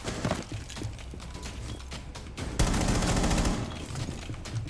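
Rainbow Six Siege gunfire rattles out in dense bursts, the shots sharpening and growing louder partway through, with mechanical clatter blended in and no talking.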